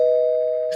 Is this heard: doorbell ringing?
yes